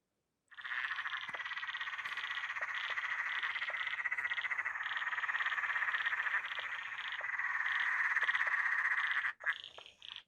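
Martin's toadlet calling within a dense, continuous chorus of other frogs at a pond: steady overlapping croaks and trills, fairly loud and close, running for about nine seconds before breaking off.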